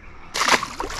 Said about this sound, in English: Big splashes.